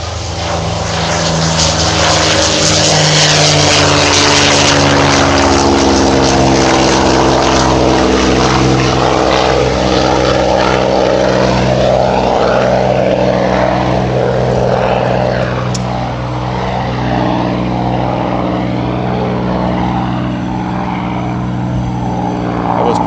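A B-25 propeller bomber flies past at a WWII weekend air show, with a loud continuous engine drone and beating propeller tones that hold near and strong before easing slightly toward the end.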